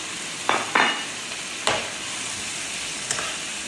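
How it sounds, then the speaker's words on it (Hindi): Chopped capsicum and green onion tossed into a hot pan for pizza bread rolls, a steady soft sizzle broken by a few sharp scraping stirs and clinks of a spoon against the pan. "ये मैं शिमला मिर्ची इसके अंदर ऐड कर रही हूँ, थोड़ा सा हरा प्याज ऐड कर रही हूँ।"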